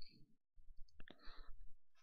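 Computer mouse clicks while a mod installer is downloaded and opened, a couple of short sharp clicks close by amid quiet talk.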